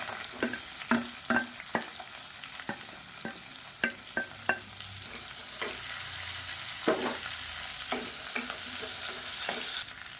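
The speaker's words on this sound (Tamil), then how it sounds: "இப்போ இதில் மீடியம் சைஸாக ஒரு பெரிய வெங்காயம் நீளமாக நறுக்குனதை சேர்த்துக்கலாம்." Long-sliced onion fries in hot oil in a pan for a tomato chutney, with a steady sizzle under repeated close clicks and scrapes of a spoon stirring, and no voices.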